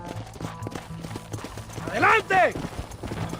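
Hooves clip-clop in a steady, quick rhythm as a horse gallops in the Red Dead Redemption video game. A man calls out over the hoofbeats, and a brief horse whinny cuts through near the middle.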